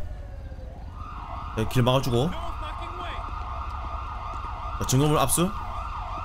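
Wailing emergency sirens from arriving ambulances in GTA V with the LSPDFR police mod, a steady rising and falling tone over engine rumble, with two short bursts of someone talking.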